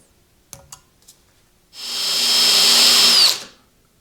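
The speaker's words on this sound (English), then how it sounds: "Make this one in the same spot and drill my holes." A power drill bores a hole in a Vevor mill table, a few light taps followed by a loud steady whine of about two seconds that cuts off sharply, with no speech.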